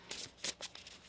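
Tarot cards being shuffled by hand in a quiet room, giving a few soft papery riffling bursts close by with brief pauses between, no voices.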